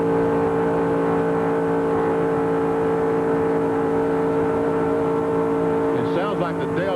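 NASCAR Busch Grand National stock cars race wide open around Daytona International Speedway in 1996, a loud sustained engine drone with steady tones, closing with a brief rising pass near the end.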